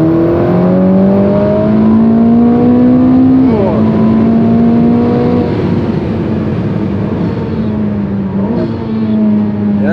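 A Ferrari SF90 hybrid supercar accelerates at full power, its loud engine note climbing steadily in pitch and dropping back at each gear change, heard from inside the car.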